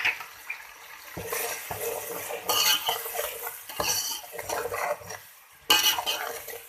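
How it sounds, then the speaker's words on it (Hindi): A spoon stirs mash dal with tomatoes in a pot, giving repeated scraping and clinking bursts against the metal with soft wet sloshing between strokes, close by and with no talking. "अब इसको अच्छी तरह से मिक्स करेंगे।"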